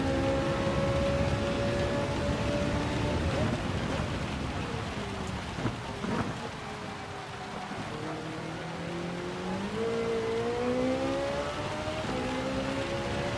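Car engine revving hard in third gear in Gran Turismo 7 during a heavy-rain race, a steady loud drone rising and falling in pitch over continuous rain hiss, with a brief dip midway.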